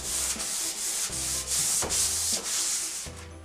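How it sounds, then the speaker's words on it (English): Light hand sanding with 400-grit sandpaper along the grain of a gel-stained wood surface, about half a dozen soft, even back-and-forth strokes in a steady rhythm, close and quiet with no voices. "So all you do is take your 400 sandpaper and just go really lightly and evenly,"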